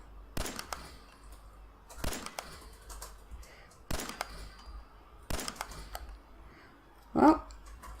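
Companion Kiara fires at targets on a gun range in Fallout 4, giving four sharp, evenly spaced shots about every one and a half seconds, each with a short tail, followed by a brief metallic clank.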